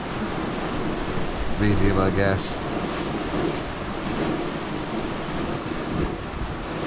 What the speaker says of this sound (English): Waves are about half a metre, occasionally a metre.